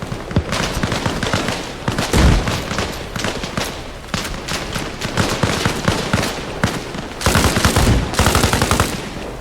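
A light machine gun lays down suppressive fire in a video game, loud, close, rapid bursts of gunfire in long strings with brief gaps, the last burst the heaviest.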